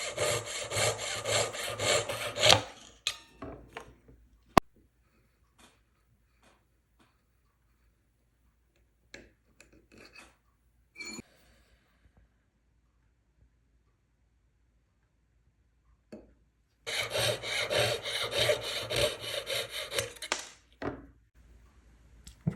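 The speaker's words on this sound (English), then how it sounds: "So we're going to cut it, the shank of the ring" Jeweler cutting through the gold shank of a ring during resizing: two bursts of rapid, rasping saw strokes, one at the start and one near the end, separated by a long quiet stretch with scattered small ticks and taps.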